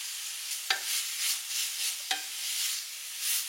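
Carrots and garlic cook with vegetable stock in a pan, making a soft, even sizzle and bubble with a few gentle swells and two sharp clicks of a utensil stirring against the pan.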